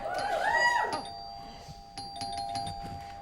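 A person vocally mimics a doorbell chime on a comedy improv stage, a rising and falling tone lasting about a second, followed by faint audience murmur and scattered tones.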